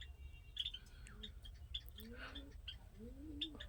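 Giribaj flying pigeons at a family loft give a few low, rolling coos, faint and drawn out, with scattered small chirps against a quiet background.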